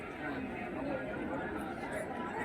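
Steady crowd chatter at a busy Hindu temple in Kathmandu, Nepal, on a Monday, a dense continuous murmur of many overlapping voices with no single speaker standing out.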